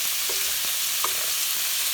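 Meat browning in a pan while being broken up, a steady soft sizzle with a few light scrapes of a utensil, heard alone at low level.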